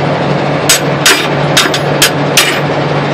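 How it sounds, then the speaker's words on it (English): A hammer strikes the fifth wheel of a truck in five or six sharp, loud metallic blows at a steady pace, some doubled, over a constant low hum from the truck. "so I gotta grab the hammer"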